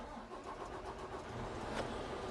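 A machine's engine cranks and catches, then keeps running with a loud, steady rumble that fills the whole stretch with no talking.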